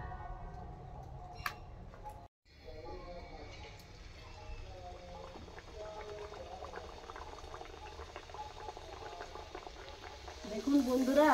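Semolina luchi frying in hot oil give a steady soft sizzle and bubbling, close and continuous, with a brief gap and a voice talking over it.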